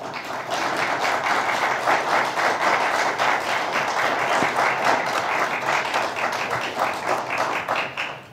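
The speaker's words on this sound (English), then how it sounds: "I would advise occupants of this chamber that clapping is not allowed" An audience in a city council chamber bursts into steady applause, many hands clapping in a dense, sustained patter for several seconds before tapering off, with no speech over it.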